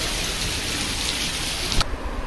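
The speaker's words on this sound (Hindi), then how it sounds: "वाओ क्या बारिश हो रही है पाजी।" Heavy monsoon rain pours down steadily as a dense, loud hiss, with no voices, then cuts off abruptly near the end.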